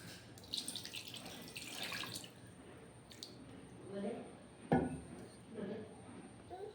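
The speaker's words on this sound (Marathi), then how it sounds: "याच्यात आता पाणी टाकायचं" Water splashes and pours into a clay pot holding jaggery in uneven bursts, with soft murmuring voices in the background.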